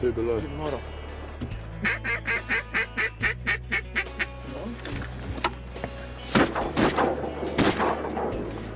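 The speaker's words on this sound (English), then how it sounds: "Good shooting, boys." Shotgun blasts ring out during a duck hunt, several sharp reports in quick succession near the end, with ducks quacking rhythmically and hunters talking before the shots.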